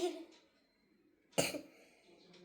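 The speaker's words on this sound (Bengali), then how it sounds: "আমার এখন খুবই কাশি হয়েছে" A single sharp cough bursts out near the middle, with a softer throaty sound at the start and a faint one near the end, otherwise quiet.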